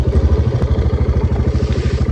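A small motorcycle engine idles close by during a fishing trip at a swampy spot. It runs as a steady, rhythmic low chug with a light mechanical clatter and no revving.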